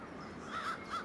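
Crows caw in a city, making two or three short, hoarse calls heard at a middle distance over a steady background hiss.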